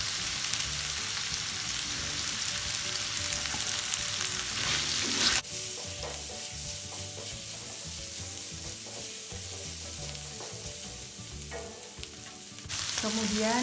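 Chili peppers fry in a pan while being stirred with a utensil, a continuous close sizzle that briefly quiets and then swells again, with occasional scraping and no talking.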